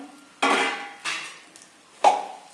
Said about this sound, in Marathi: पाक पूर्णपणे हे गुळाचं मिश्रण असं पातळ होईपर्यंत आपण ह्याला हलवत राहायचंय